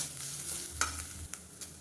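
Grated coconut roasting on a low flame in a pan, a soft steady sizzle with a few scraping stirs, quiet and close with no voices.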